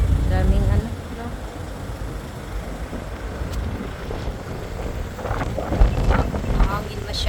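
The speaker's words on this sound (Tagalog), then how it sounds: "Mahangin masyado, guys." Strong wind buffets the microphone with a steady low roar and gusty bursts, while people talk nearby.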